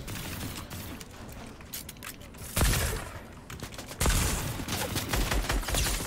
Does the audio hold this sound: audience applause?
no